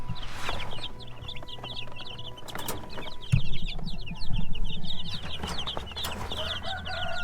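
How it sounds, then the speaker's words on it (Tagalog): Rhode Island Red chicks peeping in a dense, continuous chorus of high chirps, close by, with occasional clucks and knocks. "Ayan na yung mga sisiw."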